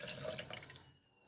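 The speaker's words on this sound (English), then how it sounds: "Just add some water to that." Water pours steadily into a blender holding cut coconut for about a second, then trails off into quiet.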